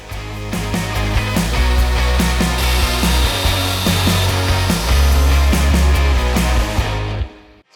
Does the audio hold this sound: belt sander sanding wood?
yes